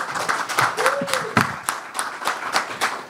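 At a real estate PropTech awards conclave, a panel speaker is greeted by a close round of distinct hand claps from the audience, with a brief whoop partway through.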